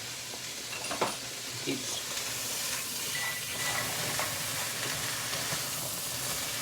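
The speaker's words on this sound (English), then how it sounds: "Keep sauteing your vegetables." Steady sizzling hiss of vegetables sautéing in a hot pan, with a few soft clicks and knocks from stirring, continuous and fairly close.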